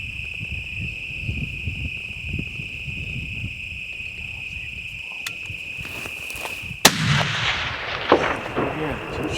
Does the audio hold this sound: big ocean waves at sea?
no